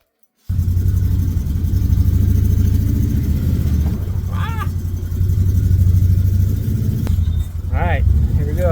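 A Can-Am side-by-side engine rumbles loudly and steadily up close as the vehicle pulls away, with brief higher squeaks over the drone.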